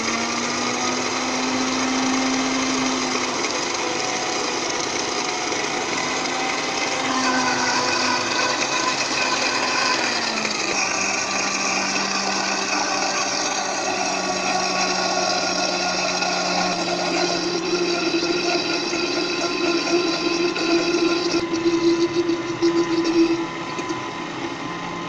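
Blender whirring continuously while making Lebanese garlic toum sauce as vegetable oil is added, a steady motor drone whose pitch shifts and drops partway through as the mixture thickens.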